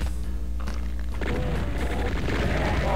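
Rocket blasts in The Plutonia Experiment, a Doom game, boom out in a dense run of explosions that stays loud and busy from start to finish, mixed with game noise.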